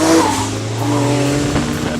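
A 1400 hp Nissan GT-R powering hard out of a corner on track, a loud, steady engine roar with rising pitch and a brief tire squeal at the start, close and alone without talk.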